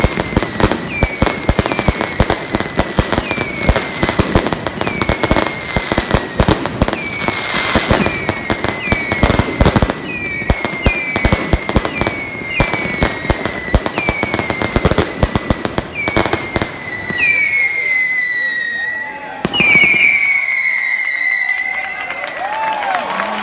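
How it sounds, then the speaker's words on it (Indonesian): Correfoc festival fireworks in Palafolls, Spain: dense bursts of crackling firecrackers and whistling rockets, loud and continuous, with louder popping explosions and high whistles toward the end, over a faint crowd. "Nah, di sini ternyata ada juga pesta kembang api."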